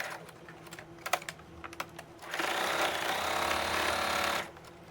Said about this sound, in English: presser foot back down, and continue sewing